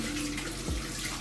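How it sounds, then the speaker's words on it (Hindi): Water poured from a container onto food colouring while chicken biryani is being cooked, giving a steady, continuous splashing rush close by. "और इसके अंदर थोड़ा सा पानी ऐड करके और हम इसके ऊपर डाल देंगे"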